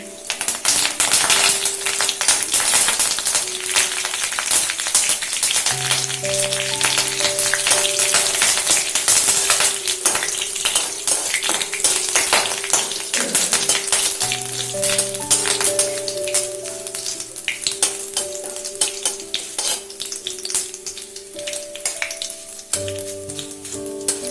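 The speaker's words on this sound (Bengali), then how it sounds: "একদম অল্প দিলাম সর্ষে। আর কারি পাতাগুলো নিয়েছিলাম সেগুলো দিয়ে দেবো।" Mustard seeds and curry leaves fry in hot oil for vada pav, a steady crackling sizzle with sharp popping seeds, close and continuous, with a faint background tone.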